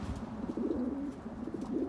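A blue cock pigeon coos softly in low rolling phrases, faint and close, with light background noise and no talk.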